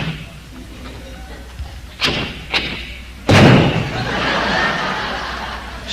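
A man imitates a car door with his voice: two short thumps, then a loud slam that fades into a long rushing tail, with light chuckling from an audience.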